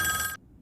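A telephone rings with a bright, buzzy electronic trill that lasts about a third of a second and then stops abruptly, leaving quiet room tone.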